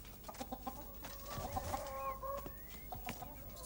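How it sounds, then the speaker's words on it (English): A chicken clucking in short repeated bursts near farm huts, with a few rising squawks and soft flapping, moderately close over a faint outdoor background. "We can see, I think, a chicken flapping near some huts."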